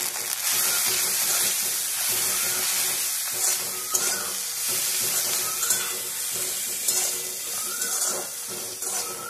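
Sesbania flowers stirred in a pan with mustard paste, turmeric and salt, giving a steady soft sizzle with scraping strokes and occasional clinks of the spoon against the pan, close by.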